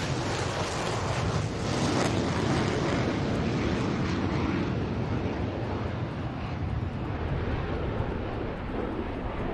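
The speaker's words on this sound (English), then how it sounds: "And here she goes, Tejas showing off its takeoff." HAL Tejas fighter jet taking off at an air force station during the Aero India 2021 inaugural air show, a steady loud broadband jet roar that swells and holds for the whole stretch, with heavy wind noise on the microphone.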